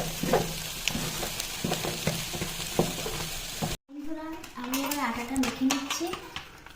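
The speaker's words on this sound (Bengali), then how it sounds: "তো এটা ভালো করে একটু পাক দিয়ে নিতে হবে যাতে আটাটা সিদ্ধ হয়" Rice flour dough for pitha is stirred in a hot pan, a continuous sizzle with repeated scraping strokes; after a brief cut, a voice talks over softer clinks and stirring.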